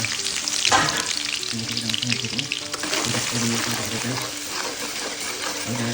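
Chopped garlic and ginger fry in hot oil for chilli paneer, a loud, dense sizzle with stirring that continues throughout while a voice talks over it.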